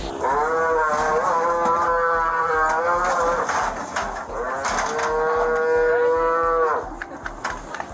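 A cow moos loudly and close by, with two long, drawn-out moos that rise and fall, followed by quieter background noise.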